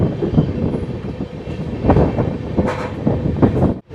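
A passenger train on the Kolkata to Prayagraj run rumbles loudly and continuously, heard from inside an economy AC coach, with heavy low clatter and rhythmic wheel knocks; no one speaks.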